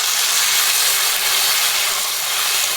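Water splashing into a hot frying pan of chickpeas sets off a loud, steady sizzle and hiss that fills the whole stretch without a break, with no voices over it.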